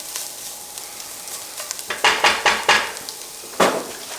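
A spoon stirs split pea soup with ham bones in a metal pot, giving a few scraping, clinking strokes in quick succession followed by one more after a pause, moderately close with a faint simmer underneath.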